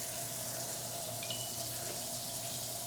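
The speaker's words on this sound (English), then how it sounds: "So I'm gonna put it in water." Steady running water from a tap fills a container while a water leak sensor is set into it, producing a continuous close hiss and splash with no talking.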